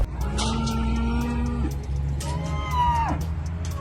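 A Subaru rally car engine runs fairly quietly, a low, even idle with a couple of short rev blips rising and falling, heard nearby without talking.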